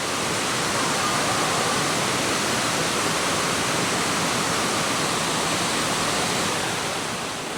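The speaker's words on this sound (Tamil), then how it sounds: "அந்த தண்ணி சத்தத்தை கேட்டிங்களா எப்படி இருக்குன்னு?" Water rushing at Lata Kinjang waterfall among rocks and trees, a steady, loud, continuous roar of falling water filling the whole stretch with no talk.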